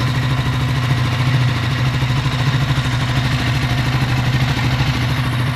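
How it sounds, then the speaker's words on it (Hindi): A Triumph Scrambler 400X motorcycle engine at 7,000 km idles close by with a steady, even low-pitched chugging throughout, no revving or knocking. "अब आपको सुना देता हूँ इंजन की साउंड"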